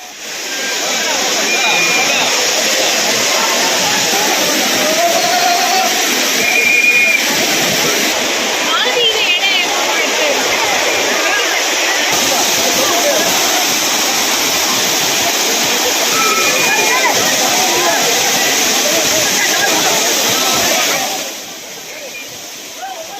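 Courtallam waterfall in Tenkasi in heavy flow, a loud, steady roar of crashing water that fills the scene and fades slightly near the end.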